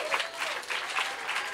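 A comedy club audience applauds in a dense, steady burst of clapping that fills the room, close and even throughout, with no voices over it.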